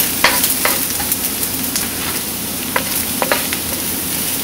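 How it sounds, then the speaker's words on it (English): Garlic sizzles and fries in a non-stick wok while being stirred with bamboo utensils, a steady close crackling hiss with occasional sharper pops and scrapes. "You can hear a nice sizzle from the garlic."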